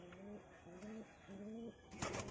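Pigeons of the Giribaz flying breed coo nearby in three repeated soft, low rolling phrases, followed by a brief rustle or flutter at the end, with no talking.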